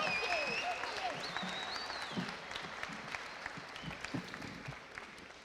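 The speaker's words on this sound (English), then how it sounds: "can we have another one of those massive round of applause, please, for Mary Doyle-Kent?" An audience at a talk applauds as a speaker comes to the stage, sustained crowd clapping that fades gradually, with a few whoops rising over it and voices under the tail.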